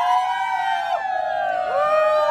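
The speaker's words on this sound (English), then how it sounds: "What are the sirens?" Police sirens wail at a street protest, several overlapping tones sweeping up and down continuously and loudly, with a faint crowd murmur beneath.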